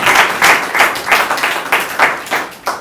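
Applause at the official launch of the Média Labo francophone media innovation platform, with ministers present: a short burst of clapping with distinct pulses, as if a few hands clap in rhythm, fairly close and steady before easing off.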